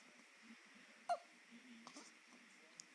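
A newborn baby just after feeding gives one sharp, soft hiccup, then small breathy sounds follow in a quiet room.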